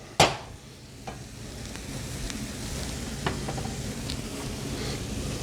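Jimmy Dean sausage browning in an oiled pan, a steady close sizzle and crackle with a sharp utensil knock at the start and a few soft stirring scrapes.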